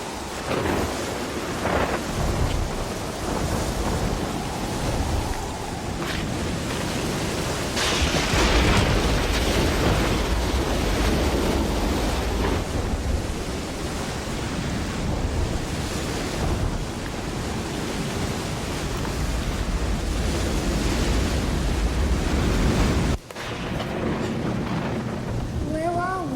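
A roaring waterfall pours in a dense, loud, continuous rush heard from close by, with voices talking faintly underneath at times.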